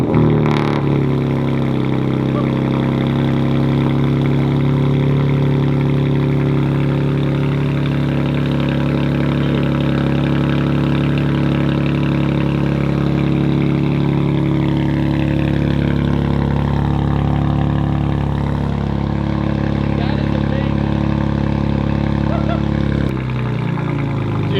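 BMW G80 M3 cold start with catless downpipe and Turner race exhaust: a loud, raspy engine roar that settles into a high, steady idle, droning near and continuously for over twenty seconds before dropping off at the end.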